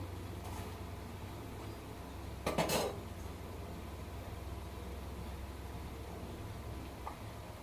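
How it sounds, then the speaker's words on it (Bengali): A metal utensil clatters against a wok while a potato curry cooks after a tempering of nigella seeds and green chilies, a short burst of scraping and clinking above a quiet kitchen hum. "কালো জিরে আর কাঁচা লঙ্কা ফোড়ন দিয়ে"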